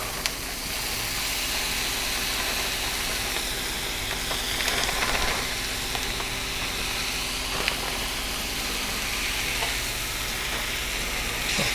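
Vegetables and softened onions stir-frying in a pan, a loud continuous sizzle with occasional clinks and scrapes of stirring, steady and close throughout with no talk.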